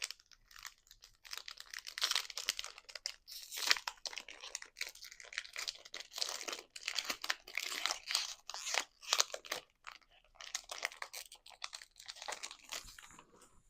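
A Lorcana trading card booster pack wrapper is torn open and handled, with close, crisp crinkling and tearing in irregular bursts that go on for over ten seconds.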